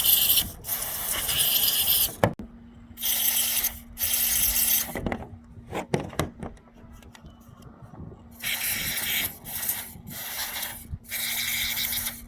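Aerosol cleaner sprayed inside a rear turn signal light socket on a Dodge Grand Caravan, in several loud, hissing bursts of a second or two each, close up, separated by short quiet gaps and small handling clicks.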